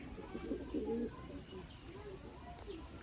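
A pigeon from a loft of Malwai and Giribuz birds coos softly. There is a short burst of low, rounded calls near the start, then quieter murmuring in a faint room.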